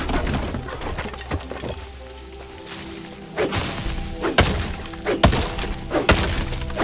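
Trees being chopped in the Lego Fortnite video game: a run of hollow wooden thunks and whacks, spaced irregularly and growing louder and more frequent toward the end, over a faint game ambience.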